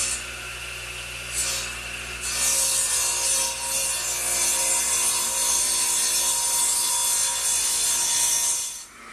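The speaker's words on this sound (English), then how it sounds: "Lock it in, and we're ready to make a cut." A saw cuts wood for a pencil post bed in a workshop. A quieter whir gives way after about two seconds to a loud, sustained cutting roar that runs steadily and then cuts off at the end.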